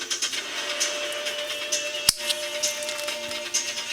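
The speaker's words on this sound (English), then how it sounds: "So we'll go ahead and cut the axle." A saw cuts through an axle from a 1992 Ford Mustang during a wheel swap, a continuous close grinding rasp with rhythmic pulses of the stroke and a single sharp knock partway through.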